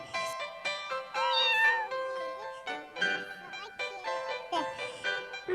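A cartoon cat meows in several short, high cries one after another, with speech mixed in around them.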